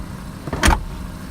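A rear seat in a 2019 Ford Transit Connect folding down, with a single short thump and latch clunk close by and nothing else around it.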